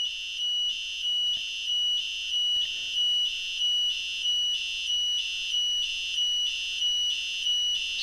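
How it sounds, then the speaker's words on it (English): Buzzer on an Arduino Uno alarm clock beeping in a fast, even pulsing pattern, a shrill electronic tone repeating about twice per second, close and steady with no talk. "have a play with the buzzer and see if I can get it to do what we want it to do"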